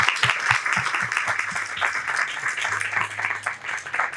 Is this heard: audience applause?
yes